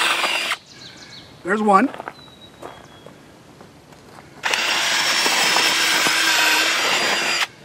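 A power drill bores holes into the ground for a real estate sign frame, with two loud sustained drilling bursts, the longer one at the end, separated by brief speech and quiet handling noises.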